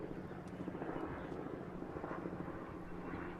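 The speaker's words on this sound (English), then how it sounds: "You hear helicopters in the distance, so somebody's coming." Distant helicopters thrum over the desert at the SCORE Baja 500 race, a steady low rotor chop that stays constant, with faint voices mixed in.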